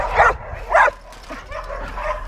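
A pregnant female springer spaniel at a kennel gives two loud, close bow-wow barks, followed by softer whimpering yips.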